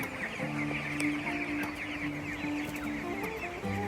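Twenty-day-old broiler chickens on a poultry farm in intense heat make a continuous, soft chorus of clucks and murmurs, with a steady low hum running beneath.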